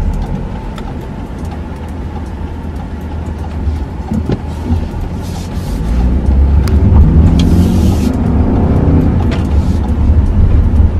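A 2021 BMW X4 xDrive20i driving on a road in Jamaica, heard from inside the cabin as a steady low road and engine rumble that swells slightly partway through, no talk.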